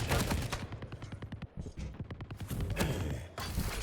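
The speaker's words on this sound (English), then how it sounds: "maxter gets the heavy off the spawn. Heavy machine gun in hand." Heavy machine gun fire rattles through a KeenCon arena shooter match, dense rapid bursts of gunfire with thuds, loud and continuous with brief lulls.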